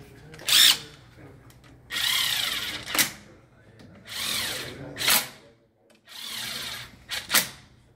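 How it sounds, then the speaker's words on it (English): A power tool with a 12 mm socket runs down splash guard bolts on a Nissan with a CVT, several short whirring bursts with pauses between, in a workshop with talk. "And then we had a bolt right here. Go ahead and run them down with the 12."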